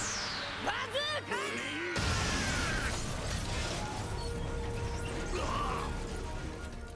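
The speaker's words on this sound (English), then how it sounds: "Luffy isn't done smashing things." Anime fight sound effects from One Piece as Luffy smashes things in his battle with Don Krieg: whooshing sweeps and a heavy crash, then dense rumbling debris and clattering, loud and continuous.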